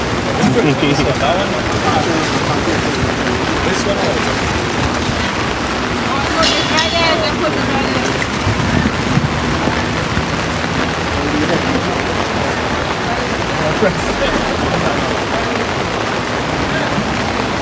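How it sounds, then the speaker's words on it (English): Heavy rain pours steadily at an outdoor school football match between Queen's Royal College and Malick Secondary, a dense continuous hiss with occasional spattering, while people talk nearby. "The rain won't stop."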